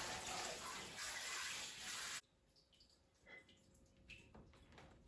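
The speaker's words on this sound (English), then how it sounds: "I'm gonna rinse it out." Tap water runs loudly into and over a bowl being rinsed, then cuts off suddenly, leaving faint dripping and light clinks in a quiet sink.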